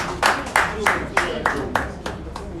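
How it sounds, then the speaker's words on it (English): Scattered clapping for Rotary's founding leaders at a Rotary 121st anniversary gathering, heard as about eight distinct bursts of claps spaced roughly evenly, close by and moderately loud with a murmur of room noise beneath. "A round of applause for all those our leaders that started Rotary at that"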